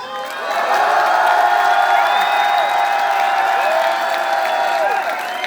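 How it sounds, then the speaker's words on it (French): A concert crowd at a show in Sète cheers, whoops and applauds loudly as a vote for a song, a sustained roar with shrill whistles and yells lasting several seconds before easing slightly. "Je vais le faire à l'applaudimètre"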